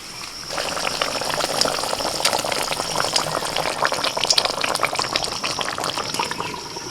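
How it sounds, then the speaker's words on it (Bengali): A pan of spice gravy bubbles and sizzles continuously, a close, steady boiling crackle with no talk. "মশলা ফুটছে"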